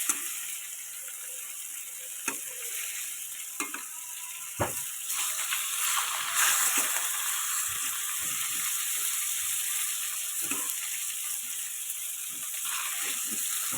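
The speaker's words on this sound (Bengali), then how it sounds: "কড়া কড়া করে ভাজলে পরে মাছটা একটু ভালো লাগবে" Pangas fish frying crisp in oil, a continuous hiss with scattered pops, clicks and the occasional clatter of a utensil, heard close and without speech.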